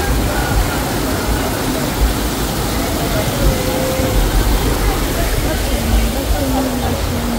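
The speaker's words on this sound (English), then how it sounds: "this gushing water is so beautiful here." A spring-fed river gushes in a loud, steady roar of rushing water, continuous and close, with faint voices in the background.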